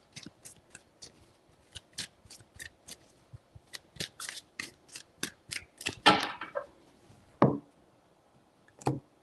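A rapid series of crisp tarot-card shuffling riffles and snaps, close and clear, ending with a few final taps.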